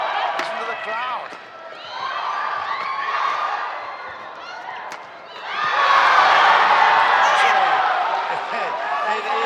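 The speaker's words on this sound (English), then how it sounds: "Listen to the crowd." A crowd at a women's doubles badminton final roars and cheers in waves, swelling loudly near the end beneath an excited commentator's voice.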